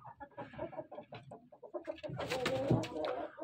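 Kuchinsky Jubilee chickens cluck and coo in a steady, busy chatter, close by and moderately quiet, with the calls growing denser toward the end.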